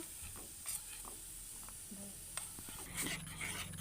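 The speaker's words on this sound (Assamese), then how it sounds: "এতিয়া আমি মিহলাই দিম চামুচ এখন দি" A spoon stirs a soap mixture made from potato and aloe vera, giving faint, intermittent scraping and swishing strokes close by in an otherwise quiet room.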